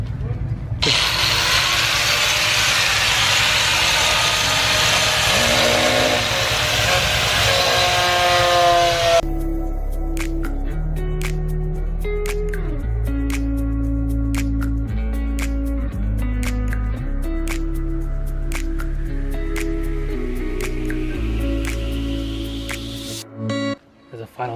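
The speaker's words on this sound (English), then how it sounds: "So we're going to grind this" A power grinder works on TwinZ rear spat car body panels, a loud, continuous abrasive whine lasting several seconds before it stops and music takes over.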